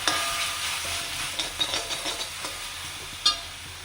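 Half a teaspoon of tomato sauce frying in a pan for an egg masala, a soft steady sizzle with a few stirring taps and one sharper clink near the end.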